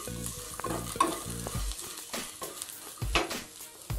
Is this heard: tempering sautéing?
yes